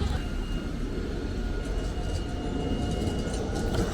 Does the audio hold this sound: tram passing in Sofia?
yes